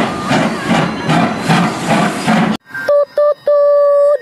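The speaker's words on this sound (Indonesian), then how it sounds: "Wow, lihat, kita juga ada kereta api Thomas teman-teman." A toy Thomas train runs with a rhythmic chuffing, hissing beat for a few seconds, then gives several short and long tooting whistle blasts, loud and close.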